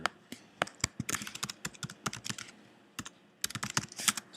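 Quick, irregular clatter of fingers typing on a computer keyboard, close and distinct, with bursts of rapid keystrokes broken by short pauses and no voices.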